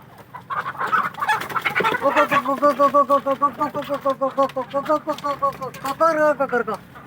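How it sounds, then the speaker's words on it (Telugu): Country chickens cluck steadily at a poultry farm in a rapid, rhythmic series of close calls, one bird's clucks repeating over several seconds against faint farmyard background. "ఈ దివాకర్ కోళ్ల ఫారం కనిపిస్తుంది"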